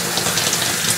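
A shower head set to a straight single stream, running water in a steady, close gush with a slight bubbling flutter and no pause across the short moment.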